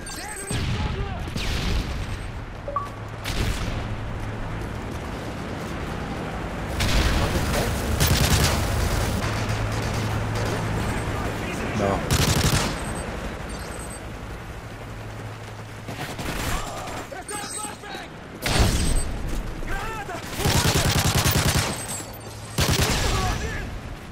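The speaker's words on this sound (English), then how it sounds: "Friendly strafe from incoming." A strafe run in Call of Duty: Modern Warfare 3 Kill Confirmed, heard as loud bursts of rapid gunfire and booming impacts in short clusters, along with game radio callouts and engine drone.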